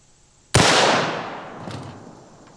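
A single rifle round fired at lightweight body armor gives one sharp, loud crack followed by a long, fading echo that rings out over the next two seconds.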